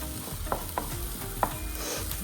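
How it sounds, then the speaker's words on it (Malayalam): Ginger and green chilies sizzling in a hot pan while being stirred, a steady frying hiss broken by several sharp spoon scrapes and clacks against the pan, close-up and without talk. "ഇഞ്ചിയും പച്ചമുളകും ചേർത്ത് കൊടുക്കുക ഇങ്ങനെ ഇളക്കി കൊടുക്കാം നല്ലോണം"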